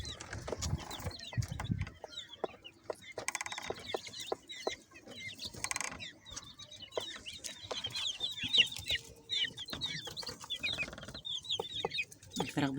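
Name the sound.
chickens clucking on a rooftop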